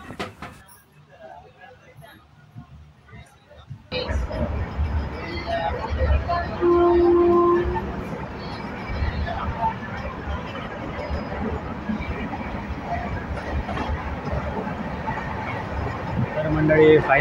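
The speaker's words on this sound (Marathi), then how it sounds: "तर फायनली ट्रेन गावली. आता झाराप स्टेशनवरनं सुटली आहे." A passenger train on the Diva route pulls out of Zarap station with a rising rumble of wheels and carriages and one sustained horn blast. People talk nearby over the steady rolling noise.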